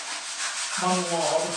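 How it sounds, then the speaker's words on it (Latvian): Hand sanding of a rough sawn wood surface meant for outdoor use, a steady close abrasive rubbing that continues for the whole stretch, with a brief spoken word near the end. "es viņu ieslīpēju"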